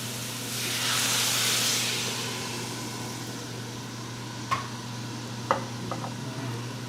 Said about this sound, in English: I will add a little bit of water in here, steam it